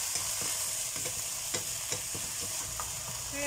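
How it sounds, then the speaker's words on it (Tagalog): Empanada filling with a little salt being sautéed in a pan, a steady close sizzle of frying under repeated scraping stirs from a utensil, with no talking. "nagisa na natin"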